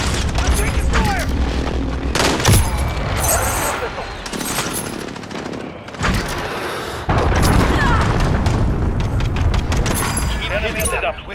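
Call of Duty Modern Warfare combat plays out with dense rattling gunfire and heavy booms layered almost continuously, loud and close, while in-game voices call out over the fighting.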